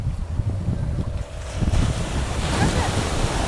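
Sea waves of an incoming high tide wash in over the rocks at Digha beach, with a steady roar of surf and wind buffeting the microphone, swelling louder in the second half.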